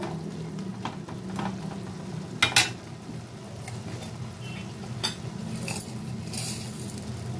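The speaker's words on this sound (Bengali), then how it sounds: "এখন আমি এটাকে এইভাবে একটু মিশিয়ে মিশিয়ে দেব।" A cooked stuffing mixture stirred in a pan with a utensil, with soft scraping and a few sharp clinks against the pan over a steady low cooking background.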